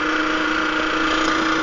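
A small motorcycle engine idles steadily, a continuous close, even hum with a slight tonal whir and no variation.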